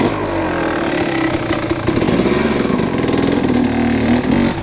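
A Kawasaki KX 250 two-stroke dirt bike is ridden inside an abandoned sewing plant. Its close, loud, buzzing engine drones without a break and the pitch shifts a little as the throttle changes.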